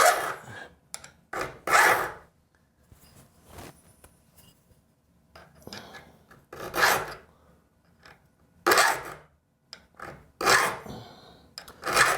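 Hand file rasping across the teeth of a fairly new rip saw blade during sharpening, in repeated short bursts of scraping strokes with quiet pauses between, close and fairly loud, no talking.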